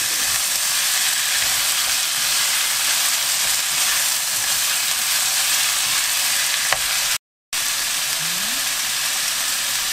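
Dried sweet potato stems are stir-fried in a hot pan, producing a loud, steady, dense sizzle and hiss that runs throughout, with a brief dropout near the end.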